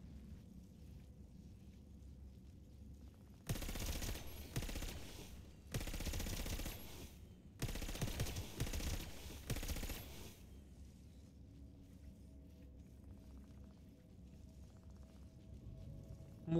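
Bursts of automatic gunfire from the Xbox Series S shooter Warface, a hard solo room of the Mars mission, come in four loud volleys separated by short pauses over a low game ambience.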